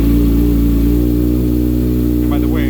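A Kawasaki ZXR motorcycle engine runs loud and close, a steady mid-pitched idle with no clear start, while someone talks over it.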